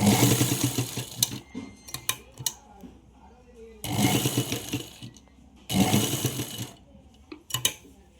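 A sewing machine stitches the cloth of an umbrella frock in loud, close bursts of rapid mechanical whirring, stopping and restarting several times with short clicks in between.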